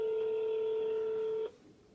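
Phone call being placed: a steady, fairly loud electronic tone holds for about a second and a half, then cuts off abruptly, leaving a quiet line. No one speaks.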